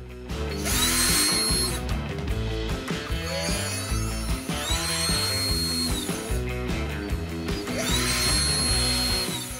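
A Kova 20V cordless impact drill runs free in three separate bursts of a bright, whirring motor whine, each lasting one to two seconds. Short pauses fall between the bursts, and the drill is heard close up.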